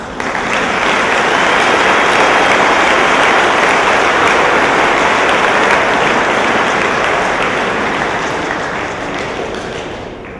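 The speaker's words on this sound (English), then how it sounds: "I think that deserves a round of applause." A large audience at an inauguration ceremony applauds with sustained, dense clapping for about ten seconds, loud and even throughout before slowly fading toward the end.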